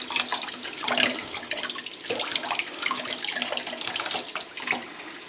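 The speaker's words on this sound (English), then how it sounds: "you want to give this a good rinsing out." Tap water runs steadily, splashing and gurgling as it rinses out a Vision Clearomizer 2.0 vape tank in a sink. The flow is continuous and close, with no talk.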